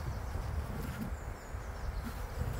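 Honey bees humming around an opened hive body, a steady low droning buzz that stays even and fairly close throughout, with no talking.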